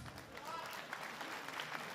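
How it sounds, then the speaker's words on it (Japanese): Steady applause from a crowd at a DEEP 100 Impact MMA event after a knockout win, broadband clapping noise holding at an even level throughout with a voice faintly present underneath. "盛大な拍手を"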